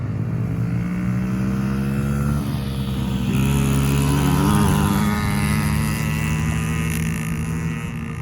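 Two kids' dirt bikes, a two-stroke fully automatic Yamaha PW50 and a four-stroke three-speed semi-automatic Honda CRF50F, drag race with a steady, buzzing engine drone. Their pitch climbs and shifts as the small motors rev hard throughout.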